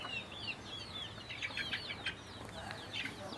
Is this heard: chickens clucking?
yes